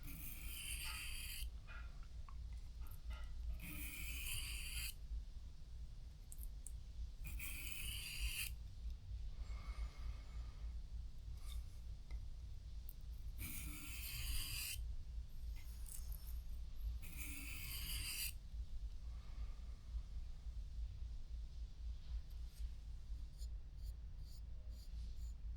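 A vintage pocket knife drawn across a sharpening stone, giving several separate short rasping strokes spaced a few seconds apart, quiet and close against a low background hum.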